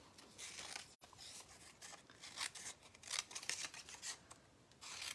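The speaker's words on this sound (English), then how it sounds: "I'm just going to cut right here on the outside of the polka dots" Scissors snip steadily through a layer of patterned paper card, trimming along polka dots for a handmade greeting card; close, quiet, continuous rasping cuts with no talking.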